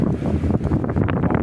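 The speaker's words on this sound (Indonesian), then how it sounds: "angin juga lumayan besar." Strong wind buffets the microphone beside a flooded river during rain, a steady rough roar that fills the whole stretch without pause.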